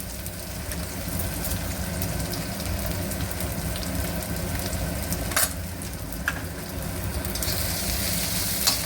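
Sliced onions frying in a pan with turmeric for an aloo barada dish, a steady continuous sizzle with occasional soft clicks of stirring, close and even throughout.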